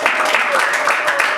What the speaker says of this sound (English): let's give him a round of applause as he takes his seat